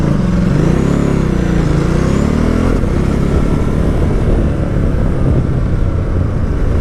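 A 2018 Ducati Multistrada 1260S motorcycle ridden through town, its engine droning loud and close with rising and falling revs under heavy wind rush, steady throughout.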